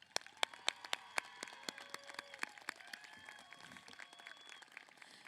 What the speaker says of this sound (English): Help me join in giving a special round of applause to the best county department